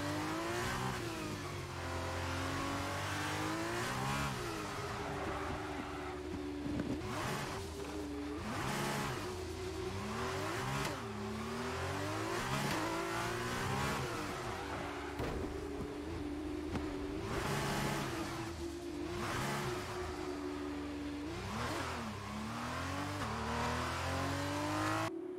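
A Formula 1 car's engine in the F1 2022 video game at Yas Marina, heard onboard: a loud, continuous high-pitched wail rising and falling through repeated upshifts and downshifts, with throttle blips and no talking.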